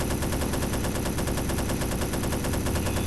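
Rapid, continuous automatic gunfire rattles without pause through a video game firefight, dense and loud in a constant machine-gun rhythm with no speech.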